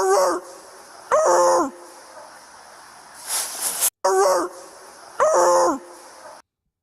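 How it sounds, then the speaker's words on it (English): A dog, supposedly a police dog, gives a series of bright, yelping barks in short bursts, with a noisy hiss in between and a brief silent gap. "That doesn't sound like a dog that the police trained to find you and get you down on the ground."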